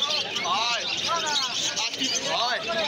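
Lutino cockatiels at the Galiff Street exotic bird market calling in repeated shrill, rising-and-falling chirps, fairly close and loud over a murmur of people talking nearby.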